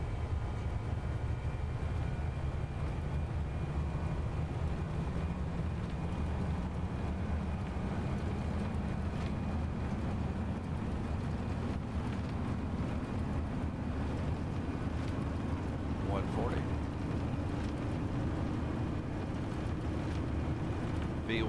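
Airbus A320 engines spool to takeoff thrust in the X-Plane 12 flight simulator, a loud, steady roar whose low rumble climbs gradually in pitch for about twenty seconds without voices.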